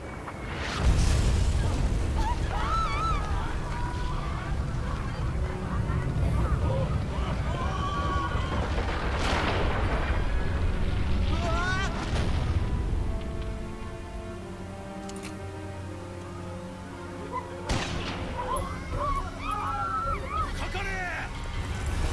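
Explosions in the video game Valkyria Chronicles Remastered, a series of loud booming bursts and rumbles under game music, with a louder blast near the middle and more later.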